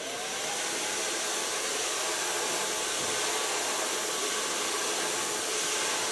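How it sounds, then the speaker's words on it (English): A hair dryer blows steadily while hair is brushed straight down with a large brush for a blunt bob cut, a loud, continuous close-up whoosh with no talking. "So I start blow drying it and take it real straight down."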